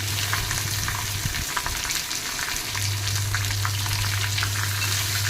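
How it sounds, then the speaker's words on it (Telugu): Cucumber pieces stirred in a hot frying pan with green chillies, giving a steady close sizzle with scattered scraping clicks of the spoon, a low hum running underneath. "దాంట్లో దోసకాయ ముక్కలు వేసి కలియబెట్టండి."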